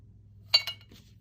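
A clean, dry metal can is handled close by, giving two quick bright clinks in succession and a faint soft knock afterward against an otherwise quiet background.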